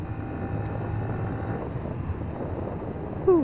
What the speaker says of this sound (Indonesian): enak banget anginnya, angin-angin pegunungan